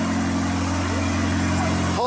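A car engine idles steadily with a deep, even hum just after a new clutch has been installed, close and continuous, with a brief rising tone near the end.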